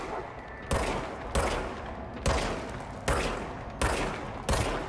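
Gunfire from the weapon in the video game Control, six sharp shots spaced roughly evenly apart, each a loud crack with a short tail over a low background hum, no speech.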